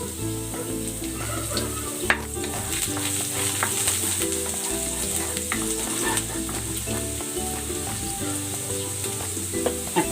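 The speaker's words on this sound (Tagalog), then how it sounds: "Igigisa ko na tong bawang." Garlic sautés in hot cooking oil with a constant, close sizzle and crackle, plus occasional stirring scrapes. The frying stays at a steady level throughout, with no talking.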